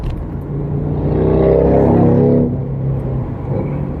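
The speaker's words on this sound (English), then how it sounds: "Wow, I wonder if that guy's riding a motorcycle." A motor vehicle passes nearby, its engine rumble swelling to a loud peak midway and then fading, consistent with a motorcycle going by.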